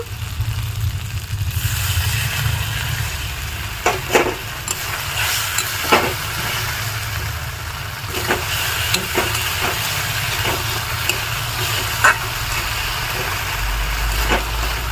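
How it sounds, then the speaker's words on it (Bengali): Cornflour batter poured into a sizzling pan of onions and sauce for chili paneer, giving a steady frying hiss with scattered soft spoon taps and stirring clinks. "এইবার আমি দিয়ে দেবো সেই কর্নফ্লাওয়ারের যে ব্যাটারটা গুলেছিলাম আমি সেই ব্যাটারটা"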